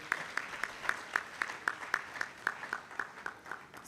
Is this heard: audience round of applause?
yes